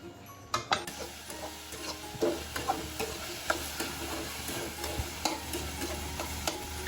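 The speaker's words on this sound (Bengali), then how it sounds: "ভাজিটা একটু করে ভেজে নিই" Sweet pumpkin frying in a pan with a steady sizzle, interrupted by repeated scraping and clinking stirs of a spatula against the pan.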